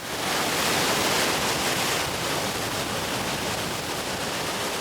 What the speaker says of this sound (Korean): 유난히 파도가 세기로 유명한 션샤인 코스트.